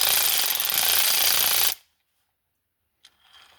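A Tite-Reach extension spun by a power tool, driving a socket at its far end, makes a loud, steady mechanical whir that cuts off sharply after under two seconds, followed by silence and a faint brief clatter.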